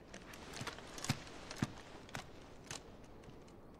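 Horse hooves clip-clopping in Final Fantasy XVI, a few distinct, sparse hoof strikes spaced irregularly over a faint, steady background, with no talk.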